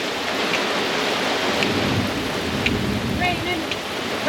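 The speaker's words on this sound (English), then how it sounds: "Raining. It's coming down." Steady rain falls at an off-grid homestead during a thunderstorm, a constant close hiss of drops hitting surfaces, with a few faint brief sounds and hints of voices in the background.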